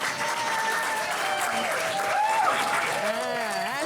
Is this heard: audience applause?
yes